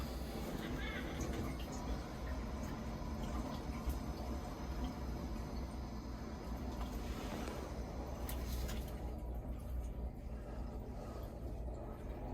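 Water flows through a hose into a Weil McLain CGA4 boiler heating zone, a low steady rushing and gurgling close by, with faint talk mixed in.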